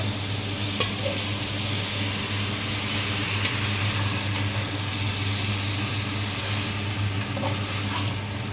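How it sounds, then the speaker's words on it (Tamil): Onions sauté with turmeric in a pan, giving a constant, even sizzle and hiss throughout, with a low steady hum underneath and a couple of faint clicks, no voices. "இப்போ வெங்காயம் பாருங்கள் நல்லா வதங்கிருக்கு, கலர் சேஞ்ச் ஆகிருக்கு"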